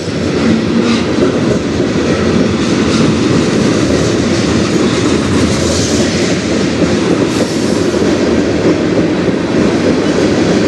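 A train rolls past on the Strathroy Subdivision, loud and close, its steady rumble and clickety-clack of wheels on rail continuing without a break and with no voices.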